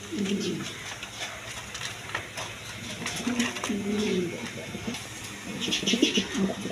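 Kokha and Mundian pigeons, including a big pair of Mundians, coo in soft low bursts that repeat at intervals, close by and fairly quiet, with a few faint chirps and flutters around them.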